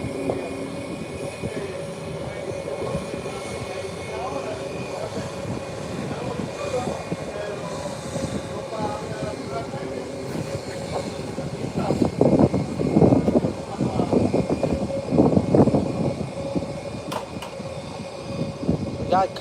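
An Airbus A321 jet taxiing toward the runway at San Juan's airport gives off a continuous engine whine and rumble that grows louder and rougher later on, heard from outside with some voices mixed in.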